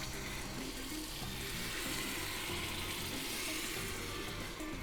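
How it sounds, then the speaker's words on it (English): Coconut cream goes into bubbling caramel, making a steady, loud hissing sizzle with a rushing, pouring quality that stays level and continuous, with no talking. "our caramel is now bubbling"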